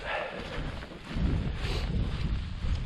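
Wind buffets the microphone at a cold, exposed wild camp, a steady roaring gust that swells louder partway through and keeps blowing hard to the end, with no talk over it.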